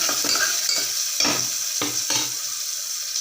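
Chopped onions frying in hot oil with curry leaves and spices for sambar rice, a loud close sizzle broken by several sharp scraping stirs of a spoon against the pan.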